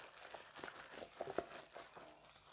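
Packaging for a Mivi Bluetooth speaker crinkles and rustles as it is unboxed, soft close plastic and paper crackles with a few sharper crunches.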